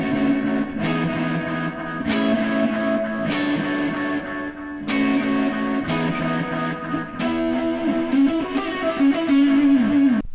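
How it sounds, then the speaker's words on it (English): Electric guitar run through a pedalboard into a high-gain amp with clipping at its front end, playing sustained distorted chords with sharp re-attacks about every second or two, loud and dense with effects wash. "it's now going into distortion, a high gain amp, something that has clipping in the front of the amp."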